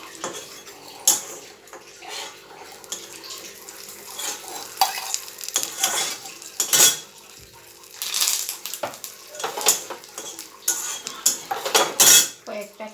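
Neem leaves and brinjal fry in a little ghee in a kitchen pan, with soft sizzling under repeated metallic clanks and scrapes of a utensil stirring against the pan, close up and irregular.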